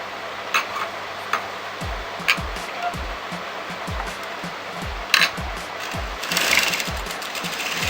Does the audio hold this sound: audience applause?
no